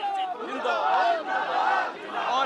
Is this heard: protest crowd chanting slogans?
yes